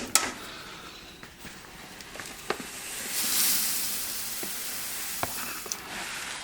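Grain stirred into a chocolate stout homebrew mash in a RoboBrew/BrewZilla all-grain brewer, giving sporadic soft knocks and scrapes over a faint watery hiss that swells briefly in the middle, fairly quiet and close with no speech.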